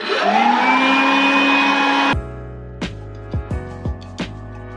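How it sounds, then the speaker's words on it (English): A household vacuum cleaner runs with a loud, steady motor whine that spins up and holds for about two seconds, then cuts off abruptly, followed by a few short knocks and tonal sounds. "I'm hoovering, okay? I'm hoovering."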